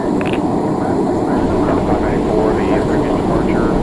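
A Boeing airliner's engines roar steadily at takeoff from Boston-Logan in Microsoft Flight Simulator 2020, a loud continuous broadband drone with a voice speaking over it.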